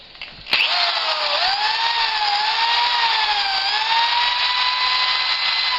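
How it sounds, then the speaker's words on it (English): A power tool running off an inverter starts with a click and runs continuously at a high, steady whine, its pitch wavering slightly as it spins. "show you how it does on power tools"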